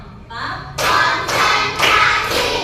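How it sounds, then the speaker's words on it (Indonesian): A class claps hands together in a counted rhythm, with a few loud, sharp group claps landing at a steady pace and voices murmuring underneath. "Sekali lagi kita tepuk."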